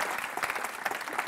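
An audience claps at a tech community talk on Rust, a short, fairly faint burst of scattered applause with no speech.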